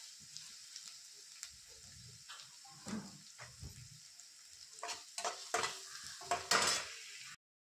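Onion sizzles in a pan, with intermittent stirring scrapes and clinks that grow louder and more frequent toward the end before cutting off abruptly; no talking.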